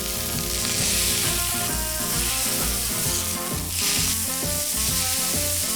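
Onions sizzle on a hot griddle at 400 degrees for smash burgers, making a loud, continuous, close frying hiss throughout.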